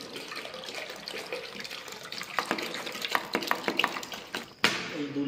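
Water poured from a container to wash a car, running and splashing steadily at close range, with irregular drips and spatters that grow louder toward the end.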